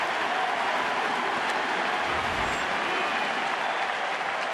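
Baseball crowd at a San Francisco NLCS game cheering after a strikeout, a steady roar of applause and voices that swells briefly, loud and continuous with no clear talk.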